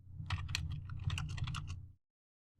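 Rapid clacking keystrokes on a computer keyboard, close and crisp, run in a quick burst before stopping abruptly, with one more key press at the very end.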